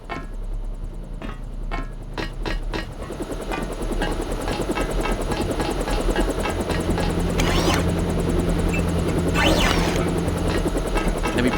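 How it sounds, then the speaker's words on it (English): A helicopter in the video game Deus Ex drones steadily with a fast rotor chop, growing a little louder, accompanied by a few sharp clicks and swooshing tones. "no one could hear him over the helicopter outside"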